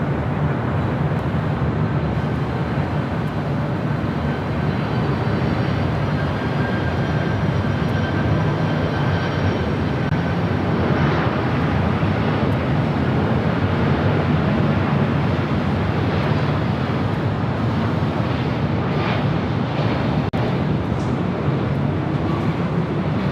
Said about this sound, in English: Right up next on the north side, the Delta 767 coming in from Honolulu.